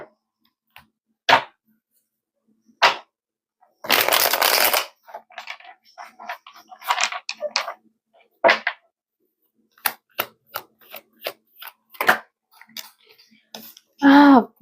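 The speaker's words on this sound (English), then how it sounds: "You guys saw how many times I shuffled that, right?" Tarot cards being shuffled by hand in quick bursts of riffling and slapping, with a longer flurry near the start and scattered snaps and clicks between short moments of quiet, alongside some brief speech.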